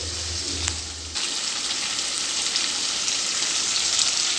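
Paneer and potato pieces frying in a pan, with a loud, steady sizzle and crackle that starts at once and continues without a break, close up with no talking.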